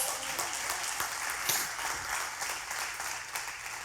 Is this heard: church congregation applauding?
yes